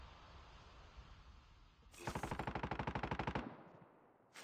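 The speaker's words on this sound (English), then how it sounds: "I hear shots." Gunfire in the Call of Duty Mobile battle royale game: after a quiet stretch, a rapid automatic burst of about twenty evenly spaced shots rattles loudly for over a second, then cuts off, with one more shot at the end.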